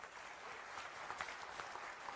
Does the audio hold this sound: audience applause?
yes